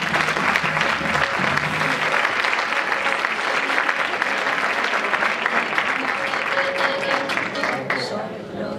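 A crowd at a women's associations event applauds as the association president steps up, with loud, sustained clapping that fills the room and slowly tapers off toward the end, while faint voices sound underneath.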